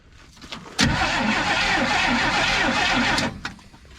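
An old carbureted 1970 Chevrolet Nova engine with a one-barrel carburetor cranks loudly and steadily for several seconds, a continuous rough churning that cuts in abruptly and then stops, with faint knocks before and after.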